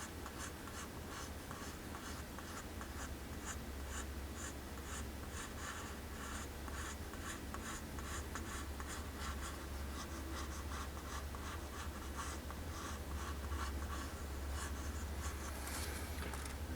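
A pencil sketches an eye's iris on paper, a steady, close scratchy scribbling that runs unbroken throughout over a low constant hum, with no talking.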